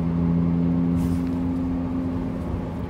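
Car cruising with its exhaust valve open, a steady droning engine hum with a strong low tone that holds evenly throughout, heard from inside the cabin without talk.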